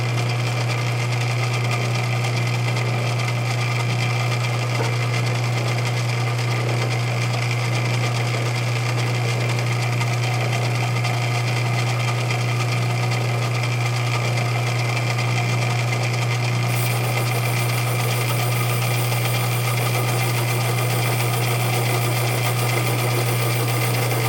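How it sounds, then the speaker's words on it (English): Metal lathe cuts a small chamfer on a backing plate for a 4-jaw chuck, giving a steady, even machine hum with a constant low tone and a faint high whine, unchanging for the full stretch and without speech. "I'm just going to throw a little chamfer on here."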